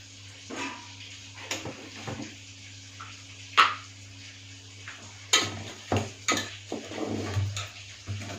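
A spoon scrapes and clinks irregularly against a bowl while coarsely ground moong dal batter is mixed with ginger paste, salt and spices for garelu. A low steady hum runs underneath.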